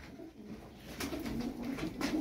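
Tumbler pigeons, a flock of play birds with many females, coo in soft, repeated low throaty calls that overlap close by against a steady rustling background.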